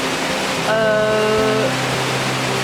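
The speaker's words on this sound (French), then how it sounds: "Je sais pas si vous allez m'entendre avec le bruit de la cascade." A waterfall in the Vosges, the Nideck cascade, rushes loudly and continuously, a broad steady roar close by, with a brief tonal voice-like sound over it.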